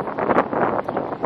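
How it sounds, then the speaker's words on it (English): Wind blows outside in steady, gusty buffets against the microphone, rumbling and rustling with brief surges, fairly close and unaccompanied by speech. "it's like so windy outside"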